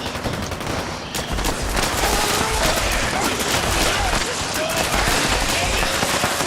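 Plasma pistol fire in Fallout 76, a rapid, dense volley of shots crackling continuously with heavy low-end thumps, loud and unbroken throughout, with a voice talking over it.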